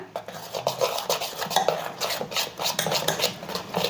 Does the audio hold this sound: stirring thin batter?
yes